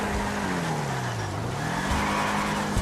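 A Schyster Deviant muscle car in GTA Online skids across rain-slicked roads, its engine droning steadily with rising and falling pitch while tires squeal continuously for a few seconds.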